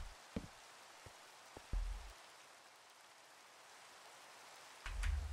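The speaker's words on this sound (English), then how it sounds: "Finally going to be able to sleep and get rid of this rain." Steady, soft rain falls in a Minecraft world as a faint, even hiss that runs throughout, broken only by a few low thumps.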